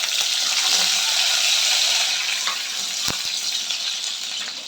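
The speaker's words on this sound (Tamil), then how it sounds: "இப்போ நம்ம கருவேப்பிலை சேர்த்துக்கலாம்." Curry leaves hitting hot oil for a brinjal gravy, a bright, hissing sizzle with crackles that starts strong and slowly eases over a few seconds, heard close and without speech.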